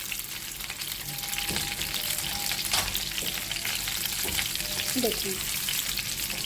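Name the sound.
beef chapli kebabs frying in oil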